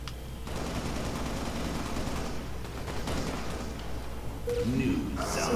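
Rapid gunfire rattles in the shooter game Halo Online, bursts of shots running on under a steady background for several seconds, ending in a louder flurry.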